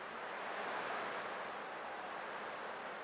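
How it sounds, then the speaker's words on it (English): Ocean waves in the Honkai: Star Rail video game wash in a steady, dense roar of surf that holds at an even loudness for the whole stretch, with no voices over it. "I can still clearly hear the sound of the waves"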